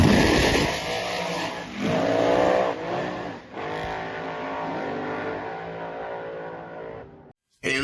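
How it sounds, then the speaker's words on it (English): A car does a driveway burnout, engine revving hard under a loud continuous tire squeal that rises and falls over several seconds before cutting off abruptly, with a brief resumption at the end. "We're doing driveway burnouts on it."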